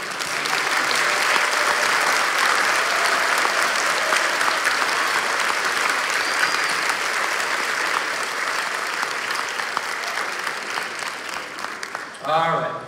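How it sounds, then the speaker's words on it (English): Large audience at an elementary school fifth grade promotion ceremony applauding teachers, a dense, steady roar of clapping sustained throughout, with brief talk at the end. "would you stand briefly so we can give you a round of applause?"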